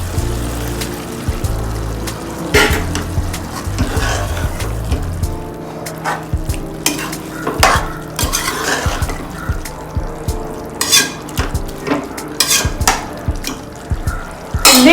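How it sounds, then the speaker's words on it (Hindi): Half a bowl of water goes into a sizzling pan of keema soya saag, a loud close rush of hissing and bubbling with repeated splashy bursts and spitting throughout. "अब हम हाफ कटोरी ऑफ वाटर मिक्स करेंगे।"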